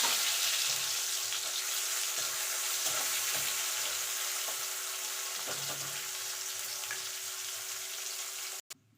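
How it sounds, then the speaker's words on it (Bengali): Chopped medium-sized onion sizzles in hot oil, a steady, moderately quiet frying hiss with light intermittent stirring taps, cut off by a brief sharp knock near the end. "পেঁয়াজটাকে ভাজা ভাজা করে নেবো"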